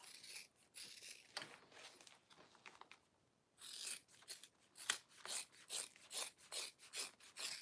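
Scissors trim excess fabric in repeated quiet snipping and rasping strokes, close and faint, with a short pause before a quicker run of cuts, no voices.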